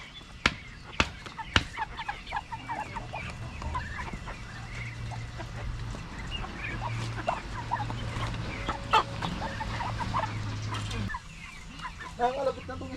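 A backyard duck pecks and calls: sharp pecking taps and short, repeated quacking calls scattered over a low steady hum, fairly close.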